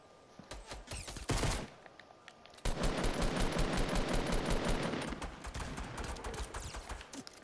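Rapid gunfire from the video game Fortnite: dense, sustained bursts of automatic shots with a few scattered single shots first, then a long, loud, continuous volley that tapers slightly toward the end.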